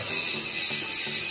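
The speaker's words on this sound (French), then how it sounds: "On passe quelques vitesses pour en mettre sur les pignons." A newly fitted, oiled bicycle chain and drivetrain run through the gears in a steady, close ratcheting whir of fine clicks, short and even, with no voices.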